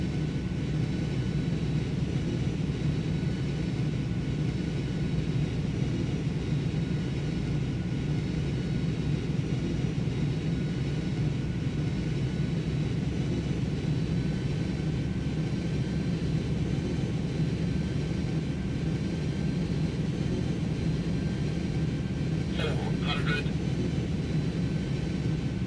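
Airbus A300 SuperTransport engines hold a steady, loud, broadband roar on approach before an intentional go-around, with a continuous low rumble and a faint whine throughout.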